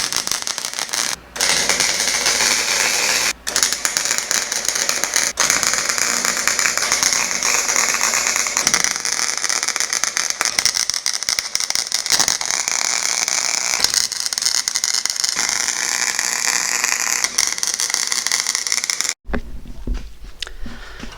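Tack welds are laid on a steel M416 military trailer, giving a loud, harsh, continuous crackling sizzle for nearly twenty seconds with a few brief breaks. No one speaks.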